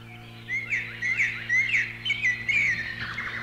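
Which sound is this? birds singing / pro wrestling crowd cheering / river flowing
birds singing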